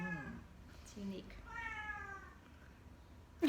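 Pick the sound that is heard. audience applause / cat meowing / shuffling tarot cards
cat meowing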